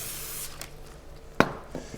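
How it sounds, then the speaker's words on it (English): A can of cooking spray spritzes onto paper for duck fat salted caramels: one steady hiss of about half a second, a softer puff after it, then a sharp knock near the end. "We're going to give a little spray to our paper"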